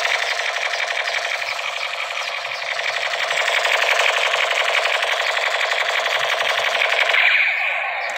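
A toy AK-47 gun fires a long, steady, rapid mechanical rattle of electronic machine-gun sound, loud and close, running unbroken with no talk over it.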